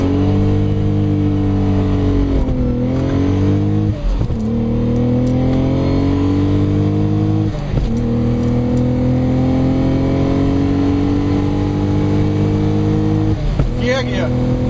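A Lotus Omega engine roars loud and close at high speed, its pitch climbing steadily then dropping sharply at several gear changes before climbing again, with people talking over it inside the car.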